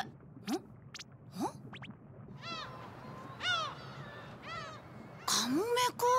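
Seagulls by the sea give a series of sharp, rising and falling squawking calls, some single and some in quick clusters, at moderate distance over quiet background noise.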